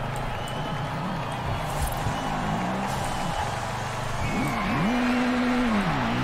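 A black 2018 Honda Civic Type R in the racing game Forza Horizon 5 revs its engine, the pitch climbing and dropping in a few short sweeps over a low running drone, with a louder rev near the end.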